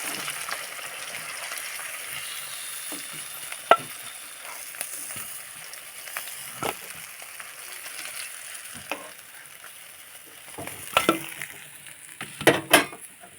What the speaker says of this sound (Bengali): এই মাছের পিসগুলো ভালো করে ভাজা হয়ে গেছে এবারে তুলে নেবো